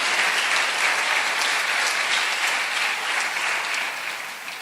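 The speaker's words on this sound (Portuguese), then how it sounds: "Aplauda o nome do Senhor Jesus" Loud, sustained applause from a church congregation, a dense steady wash of clapping that carries on without a break and fades slightly at the end.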